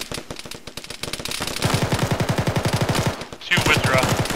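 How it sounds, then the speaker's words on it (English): Rapid machine-gun bursts rattle in a fast, even rhythm during a military battle in ArmA, loud and close, building to sustained fire with a brief pause near the end. "Keep firing at the enemy."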